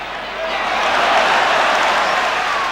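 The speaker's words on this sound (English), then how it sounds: "Crowd enjoyed that." Football crowd at the 1984 UEFA Cup Final, Tottenham in play, breaking into loud, sustained applause and cheering that swells after the first half-second and holds steady as a dense roar.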